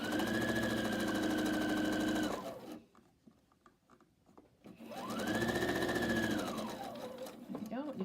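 Sewing machine stitching quilt blocks with a steady whirring hum that runs, winds down and stops, then starts up again after a short pause, close and loud, with a voice speaking during the quiet gap.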